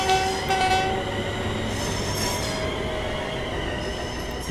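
A Cathcart Circle commuter train in Train Sim World 5 runs on rails between Mount Florida and Kings Park, with continuous rumbling wheel noise, metallic squeal tones and faint high whines, with no talking.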